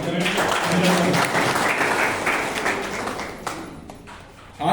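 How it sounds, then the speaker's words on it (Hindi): Applause rises from the audience at a divisional working committee meeting, a dense, steady patter of many hands that stays strong and then tapers off near the end, with some voices mixed in. "पूरी भारत की सरकार का हम लोग जोरदार तालियों से स्वागत करें"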